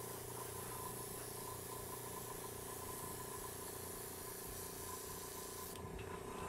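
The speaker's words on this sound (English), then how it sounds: "So when your airbrush gets clogged, what I'll do is I'll put my finger over the tip, press down the air, and just force some air back up in there." A clogged airbrush blowing air, with a continuous faint, even hiss over a low background hum that cuts off abruptly near the end.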